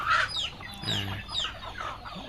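Farm chickens cluck and squawk at close range as they are fed chopped banana stem, a few short repeated calls over a quiet background.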